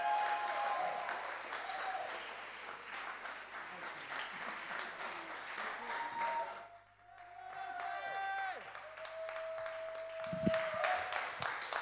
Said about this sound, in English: Huge additional round of applause